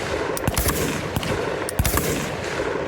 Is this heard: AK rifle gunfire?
yes